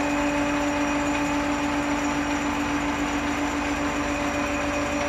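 An old Holbrook metal lathe running steadily, a constant mechanical hum with a faint whine held evenly throughout with no talk.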